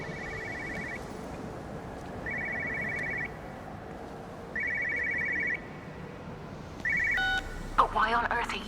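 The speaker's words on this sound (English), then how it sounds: "Phone ringing." A telephone rings in Everybody's Gone To The Rapture, four short trilling bursts spaced about a second apart over a steady ambient bed, with a brief electronic tone sweep near the end.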